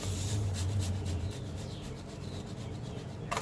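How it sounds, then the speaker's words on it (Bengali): A potato rubbed against a grater for an omelette, giving a steady close scraping rasp with quick repeated strokes and no talk. "আলুটা ঘষে নেব"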